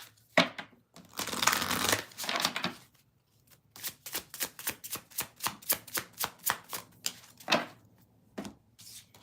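Tarot cards being shuffled by hand, a burst of riffling crackle followed by a quick run of crisp, evenly spaced card snaps up close, with no talking.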